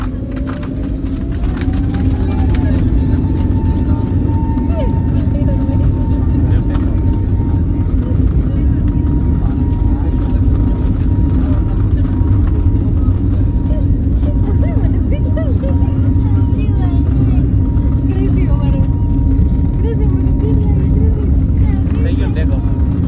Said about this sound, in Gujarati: હાલો ફાઇનલી આપણે તૈયારી છે હવે પ્લેનને ટેક ઓફ થવાની